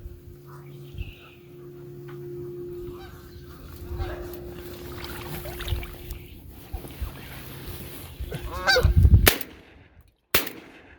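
Geese honk overhead during a waterfowl hunt in South Dakota, a scattered series of calls over quiet outdoor ambience, ending in a couple of sharp, loud bangs.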